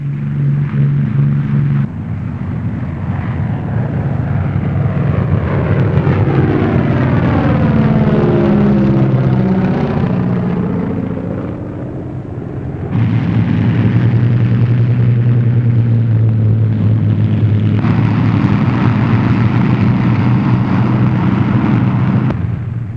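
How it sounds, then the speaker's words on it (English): Heavy propeller engines of World War II bombers drone loudly and continuously, swelling and shifting in pitch as planes power up and roar past on takeoff in England, with no voices. "Planes are taking off at the same time from dozens of widely dispersed fields all over England"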